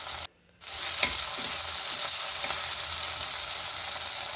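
Tomatoes sautéing in a pan for a Kerala river fish curry, a dense continuous sizzle heard up close after a brief cut to silence at the start, with faint scraping stirs and no voices.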